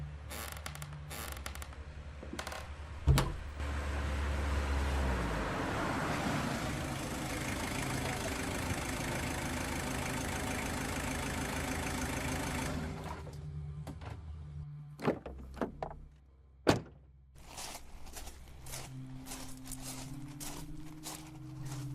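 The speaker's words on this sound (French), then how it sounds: "j'entends une voiture. Je crois qu'il est arrivé" A car arrives outside a house, its engine rumbling steadily for several seconds before cutting off, followed by door clunks and shuffling sounds.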